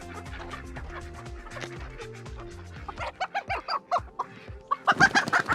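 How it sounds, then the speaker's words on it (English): Chickens and roosters cluck close by, with layered calls that grow into a rapid, louder burst of squawking toward the end. "The big ones are the ones that are roosters."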